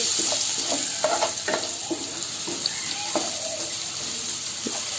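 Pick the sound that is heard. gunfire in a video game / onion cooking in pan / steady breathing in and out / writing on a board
onion cooking in pan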